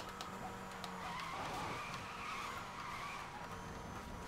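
A video game car drifts, its tyres squealing and skidding in a sustained, wavering screech over the engine drone, steady and fairly close.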